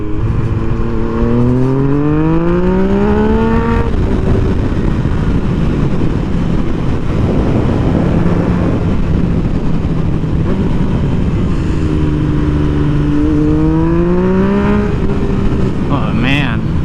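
Motorcycle engine while riding along a gravel-strewn hillside road: a loud, continuous drone that climbs in pitch through gear changes, with wind noise throughout and someone speaking intermittently over it.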